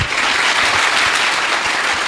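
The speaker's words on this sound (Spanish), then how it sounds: "Aplauso pues para el hermano." A church congregation applauds for a brother in a short, dense burst of steady clapping that is loud and close and holds even for the whole moment, with no voices over it.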